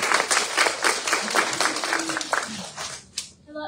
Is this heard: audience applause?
yes